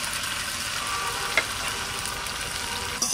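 Flat beans sizzle steadily in hot oil in a pan for a winter breakfast, a close, continuous frying hiss with a couple of faint clinks and no talking.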